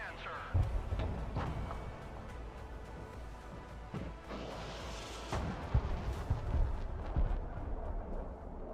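Rocket artillery fires from a HIMARS launcher in the Broken Arrow war game: a long, low rumbling barrage with repeated heavy thumps and swells that stay loud throughout, and a voice talking over it.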